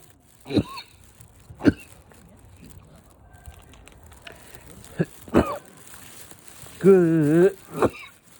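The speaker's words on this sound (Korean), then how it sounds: "갑자기 기침이 나오는데요" Several sharp, isolated coughs scattered across a quiet stretch, close to the microphone, with a brief tonal sound in between.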